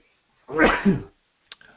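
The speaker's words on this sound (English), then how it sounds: "Had to sneeze." A single sharp sneeze, close and loud, followed by a brief faint noise and then quiet.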